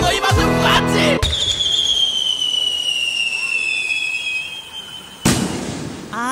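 Fireworks sound effect triggered on a live stream: a sharp crackling burst opens, then a long whistling rise trails off before a second loud bang near the end, heard alone without talk.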